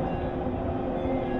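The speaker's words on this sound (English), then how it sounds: "when the train comes in, I'll be able to shoot through the train" A train rolls into a station at night on a city street, a steady loud rumble of wheels and rail noise filling the scene without pause, no voices over it.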